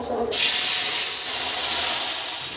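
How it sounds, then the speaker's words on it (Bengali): Starch water is poured off a pot of cooked rice, a sudden close, broadband rush of hissing liquid that starts abruptly and holds steady to the end. "এখন ঝাঁকানাকা করে আমি ভাতটা এখানে মারটাকে ড্রেন আউট করে নেবো"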